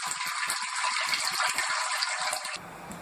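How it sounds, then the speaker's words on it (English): Wort drains into a brew pot while brewing a Pilsner SMaSH beer, a close, steady gushing rush of liquid with small rattles, tapering off abruptly near the end. "Let's get this drained into our brew pot."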